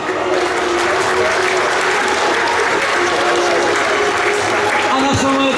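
A large crowd at a political campaign rally in Płock applauds loudly and steadily, a thick continuous roar of clapping that fills the whole stretch, with a faint tone and voices underneath near the end.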